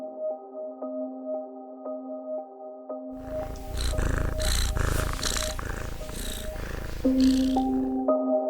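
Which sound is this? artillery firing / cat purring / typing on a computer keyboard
cat purring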